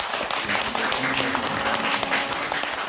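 A church congregation gathered for an outdoor forest worship service claps together in steady, moderate applause, with voices murmuring faintly underneath.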